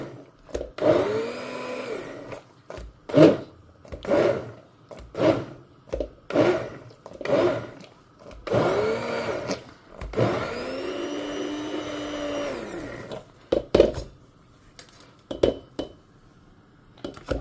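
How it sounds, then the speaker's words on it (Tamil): A blender blending spinach whirs in a series of short pulsed bursts, then runs for a longer stretch of several seconds before stopping, loud and close. "அதனால் நான் இப்படி பிளெண்டரில் நல்லா பிளெண்ட் பண்ணிட்டுருவேன்."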